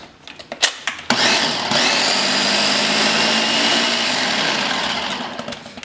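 A food processor motor grinds chickpeas for falafel, starting with a few short pulses before running continuously with a loud, steady whirring and clattering buzz, alone without voices.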